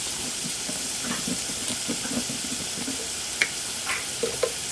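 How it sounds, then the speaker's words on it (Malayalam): Two big onions sauté in a pan on the stove, sizzling steadily with a constant frying hiss and occasional soft stirring clinks and scrapes. "രണ്ട് വല്ലുള്ളി അടുപ്പിൽ പാത്രത്തിൽ വെച്ചിട്ട് വാട്ടിയെടുക്കുക"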